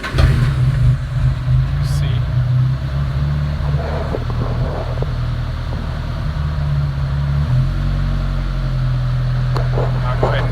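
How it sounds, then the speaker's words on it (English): A race team car's engine starts after the fuel pump primes, then settles into a steady, loud running rumble close by, with someone talking briefly over it. "I go ahead and start the car."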